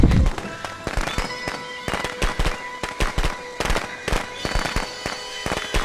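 Thrown firecrackers crackling in the Friday the 13th video game: a dense, uneven volley of loud snapping bangs that keeps going for several seconds, close up and unaccompanied by speech.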